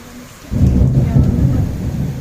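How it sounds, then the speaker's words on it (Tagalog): A thunderstorm with hail and rain in Milan: a loud, close, continuous roar of heavy precipitation and rumbling thunder that rises suddenly and stays strong. "Nag-uulan na ng yelo."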